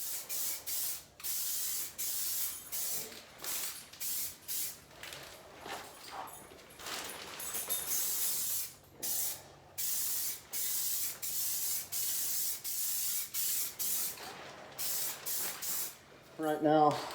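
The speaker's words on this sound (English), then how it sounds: "I put a coat on off camera, so I think this is going to be my 4th coat." Spray paint going on a BMW 335 bumper in repeated short hissing bursts of a second or two each, separated by brief pauses, close and fairly quiet, with a final clattering bit at the end.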